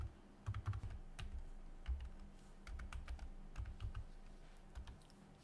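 Quick, light keystrokes on a computer keyboard come in short irregular bursts with brief pauses between them, close but quiet, with no one speaking.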